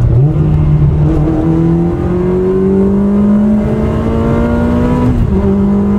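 Ferrari engine pulling hard under acceleration, a loud, rising drone climbing through the gears with one shift near the end, heard from inside the car with no talk.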